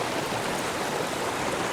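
Water pours steadily at Etthipothala Falls, a waterfall splitting into three streams, giving a broad, even rushing roar that stays constant and fairly close throughout with no voices.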